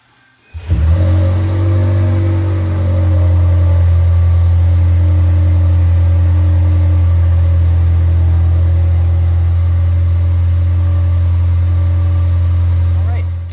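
A 2025 Toyota Tacoma TRD Pro pulls away. After a brief silence its engine starts a loud, steady, low drone that holds close and constant to the end.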